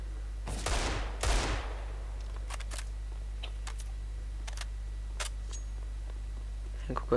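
Two loud bursts of gunfire from a Counter-Strike: Global Offensive match crack out close together, followed by scattered sharp clicks and shots over a steady low hum.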